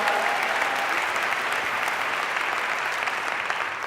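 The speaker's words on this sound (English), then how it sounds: "Big round of applause to Mark Sham." Sustained applause from a live event audience, dense and steady clapping filling the whole stretch, fading slightly at the end.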